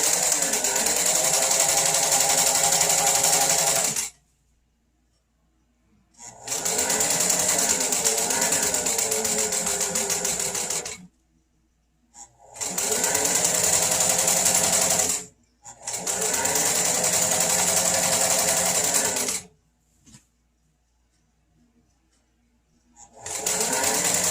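A sewing machine stitching a camping pillow runs in four loud, close bursts of rapid mechanical whirring, each several seconds long, separated by short silent pauses.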